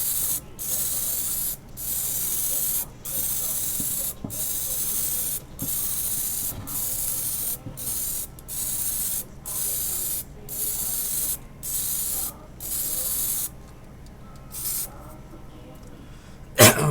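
Repeated hissing bursts from a spray gun spraying high-gloss lacquer, each lasting about a second with short gaps between, close and steady, ending with a few shorter sprays.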